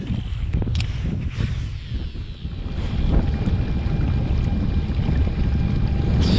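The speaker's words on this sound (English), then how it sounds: "Jeez Louise, it is gusting." Strong wind gusts buffet the microphone on open water during a kayak fishing tournament, a steady low roar that surges louder around the midpoint and stays heavy to the end, with no voices.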